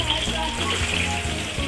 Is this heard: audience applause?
no